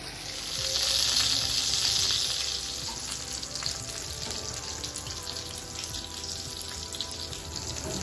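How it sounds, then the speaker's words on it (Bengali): Hilsa fish fritters wrapped in bottle gourd leaves fry in a little oil over low heat, a steady hiss that swells for a couple of seconds then settles into a quieter sizzle. "একটা ফ্রাই প্যানে অল্প একটু তেল দিয়ে হালকা আগুনে আমি ফ্রাই করে নিব।"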